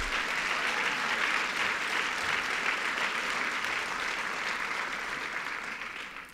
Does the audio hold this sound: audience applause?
yes